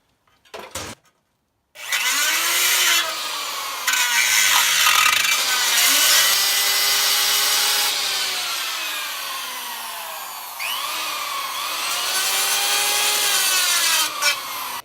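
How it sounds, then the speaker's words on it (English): A rotary burr grinds out the center section of a steel frame rail on a 1990 240SX, a loud, continuous high-pitched whine that rises and dips as the tool bites, after a couple of short bumps at the start. "this one I just gotta use the burr to remove that center section"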